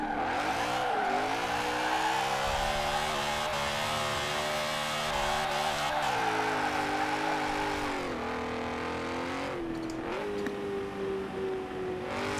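BMW Z4 drift build in Forza Horizon 4 revving hard and bouncing off the rev limiter, its engine note stuttering and wavering at high pitch while tires squeal, loud and close throughout.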